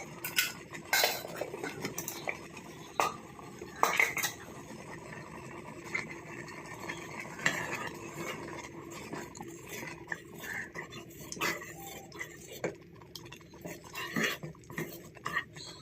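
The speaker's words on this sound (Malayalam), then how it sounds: "പിന്നെ അണ്ടിപ്പരിപ്പും മുന്തിരി എല്ലാം കൂടെ വഴറ്റിയെടുക്കാം." Cashews and raisins sautéed in a pan, with a spoon clinking and scraping against the metal in irregular, close strokes over a low background sizzle, with no talk.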